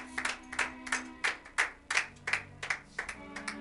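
A church congregation claps in praise during a service, about a dozen bright rhythmic claps repeating at a steady, slightly uneven pace, close and fairly loud, with a low sustained tone underneath and no talking.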